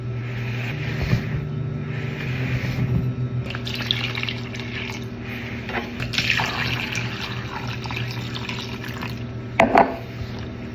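Tap water runs and splashes steadily as it is poured into three cups of refined cornmeal for a smooth mixture, with a low background hum and a brief louder splash near the end.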